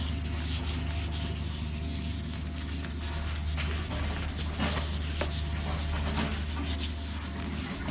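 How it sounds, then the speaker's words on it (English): Wet sanding on a car fender before spray-can painting: steady rhythmic rubbing strokes of abrasive paper over the wet panel, close and continuous with no talk. "This is very quick and easy sanding when you wet sand."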